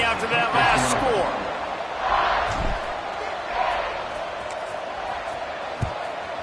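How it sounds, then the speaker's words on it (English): A football stadium crowd buzzes with a broad, steady roar right after a touchdown and kickoff, swelling briefly near the start and holding at a constant loud level, with a sharp thump late on. "this crowd is buzzing after that last score"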